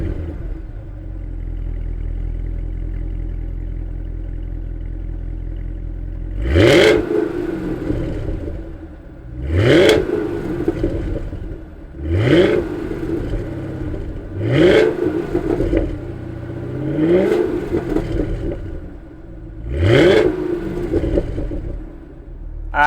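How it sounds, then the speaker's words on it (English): A supercharged 2018 Cadillac CTS-V Championship Edition sedan engine cranks and fires up, then gives a string of six or seven loud, sharp throttle blips, each rising and falling back to a deep, burbling idle. "Let's hear an eargasm and fire this CTS-V up."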